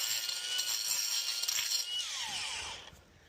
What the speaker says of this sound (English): So I'm gonna use the best grinder in the world and carve out some of these cracks.